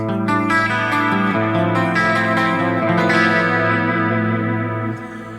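Clean electric guitar on a humbucker pickup, played through an Axe-FX III MKII, strumming sustained chords, bright and full, washed in a large reverb tail that lingers as the notes ring out.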